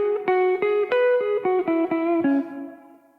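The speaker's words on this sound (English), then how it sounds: "The third tool of decoration you can do is adding hammer-ons, and that looks and sounds like this." Single plucked guitar notes ring in a short solo phrase, each followed by legato notes sounded without a new pick stroke, as in hammer-ons, fading into a decaying sustain at the end.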